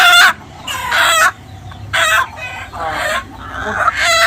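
Egyptian Fayoumi chickens, a hen and a rooster, cluck and crow loudly and close by. The calls come in repeated bursts with short pauses between them.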